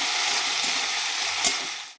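Whole cumin with green chilli and ginger paste frying in hot oil in a pan, a loud, continuous bright sizzle with a brief stir near the end, no voices.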